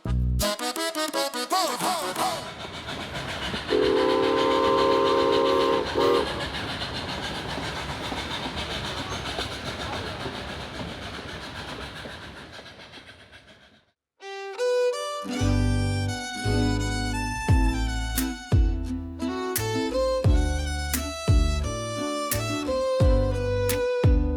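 Chama train in the high desert, heard as a steady broad rumble and rail noise for most of the stretch, then a sudden cut into loud, rhythmic, tonal sounds in the second half.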